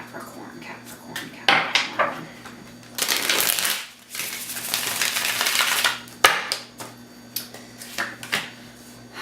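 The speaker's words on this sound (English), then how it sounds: "One more shuffle for Capricorn" Tarot cards are shuffled by hand in several bursts of riffling and flapping, close up, with short pauses between shuffles.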